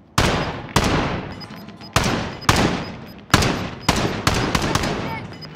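Gunshots in the battle royale video game Call of Duty Warzone, about nine loud separate reports with echoing tails, spaced irregularly, some in quick pairs, with no talk over them.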